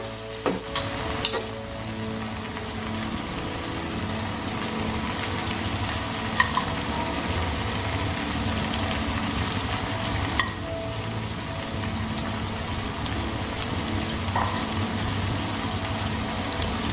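Small chuno fish fry in spiced oil with potatoes, Bengali style, giving a loud, steady, close sizzle that runs unbroken throughout, with a few faint utensil clinks and no talking.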